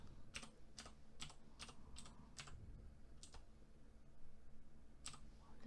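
A computer keyboard clatters with sparse, distinct key presses while data is entered into accounting software, quiet and close with irregular gaps between clicks.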